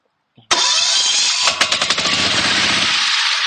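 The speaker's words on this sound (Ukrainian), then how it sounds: "Тепер перейдемо до запуску цього мотоблока і покажемо, як він працює на своїх передачах" A walk-behind tractor's small engine cranks and catches, then runs loudly and steadily with a rough, rapid putter, close by with no talking.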